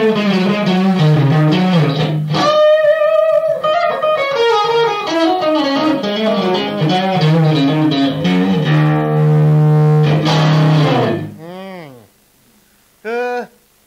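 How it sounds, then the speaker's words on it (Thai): An electric guitar played through a Jet City JCA22H amp head with overdrive crunch rings out in distorted chords and sustained notes, loud and close, then cuts to a brief pause and a few short picked bursts. "่เสียงแตกมันเป็นโอเวอร์ไดร์กับครันช์แรงๆนิดๆแต่ว่าไม่ใช่แบบเมทัลเนี่ยเป็นสำหรับคนร็อก"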